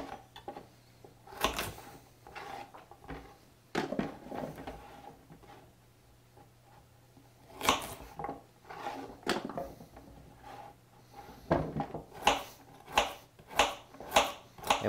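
Knife chopping carrots into fine rings on a board, a run of sharp irregular cuts that starts, pauses, then returns as quicker, more regular strokes, close and fairly quiet.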